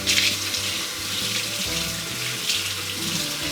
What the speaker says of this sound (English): Now we'll just rinse the conditioner off of that.